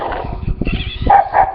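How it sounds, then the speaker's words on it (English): Short barks from a pet dog arriving outdoors near a remote-control car, several sharp yaps close by over a low background rumble, with no talking. "here comes my doggy"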